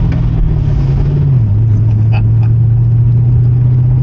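A 1977 Camaro Z28 engine idles with a low, steady, mellow exhaust rumble, close and fairly loud, pitch dipping slightly once before settling.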